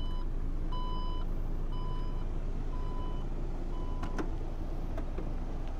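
A 2017 Porsche Macan's power trunk closes to a series of evenly spaced electronic beeps over a steady low hum, with a couple of brief clicks near the end as the lid seats.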